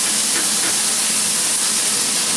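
Minced beef, 500 grams, frying and caramelising in a pan, giving a dense, continuous hiss of sizzling fat, loud and close with no talk.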